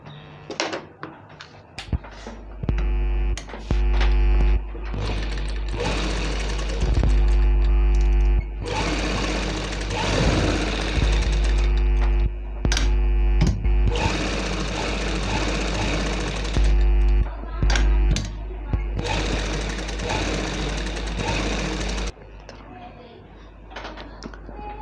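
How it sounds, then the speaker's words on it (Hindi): A domestic sewing machine stitches a baby bib with white piping, running in loud steady bursts with short pauses between runs, close up and with no talking. "अब हम सिलाई कर लेते हैं।"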